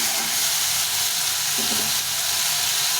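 Tomato frying in a pan makes a continuous close sizzle with faint bubbling crackle, heard alone without speech.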